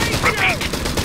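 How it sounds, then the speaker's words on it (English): A machine gun rattles in rapid, evenly spaced bursts in the Company of Heroes 3 battlefield, loud and close, with a voice breaking in over the shooting. "Target that machine gun."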